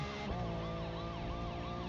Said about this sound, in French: j'entends quand même ta sirène au loin